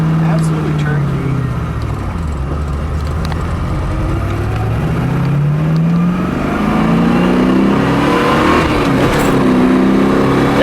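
A 1970 Mustang Boss 302 V8 engine revs and accelerates hard for about ten seconds, rising and falling through gears, loud and close, with a steady roar throughout.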